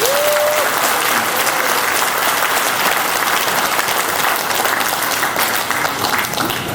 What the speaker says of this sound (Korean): 이분들 위해서 큰 박수 한번 보내주십시오.